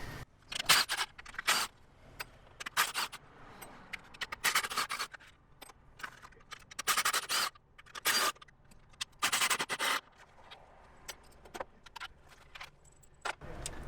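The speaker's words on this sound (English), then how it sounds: "Now I'm gonna remove the bolts and nuts from the intake manifold." Four 11mm bolts and three 11mm nuts come off the intake manifold of a BMW E90 328i, heard as close metallic ratcheting, clinks and scraping in irregular short bursts with quiet gaps between.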